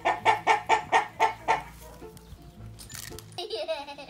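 Pet hens being hand-fed clucking loudly and close in a quick rhythmic run of about seven calls, then quieter pecking and scattered background sounds, with a brief burst of further clucking at the end.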